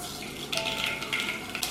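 Mustard seeds dropped into hot coconut oil in a pan while cooking a Kerala sardine curry, giving a steady close sizzle with bright crackling spits and faint utensil clinks, no talk.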